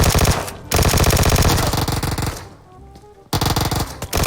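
Rapid automatic gunfire from PUBG Mobile blasts in dense, loud bursts, stopping briefly near half a second and again for about a second before resuming hard, with no talk over it.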